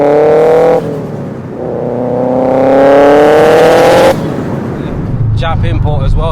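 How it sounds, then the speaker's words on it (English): The engine of a 500bhp Subaru estate, a Japanese import, revs loudly from close inside the car. Its pitch rises and falls through rev-matched gear changes, then drops off, and a voice talks at the end. "I just love rev matching cars, man."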